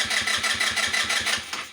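Kymco Super 8 scooter engine cranking repeatedly without catching, a steady rhythmic series of starter pulses, loud and close, with no voices.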